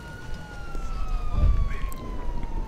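A police siren wails from GTA Online, its falling, wavering tone sliding steadily downward at moderate distance, joined by low engine rumble and a brief thump midway.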